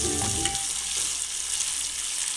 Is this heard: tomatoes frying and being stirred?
yes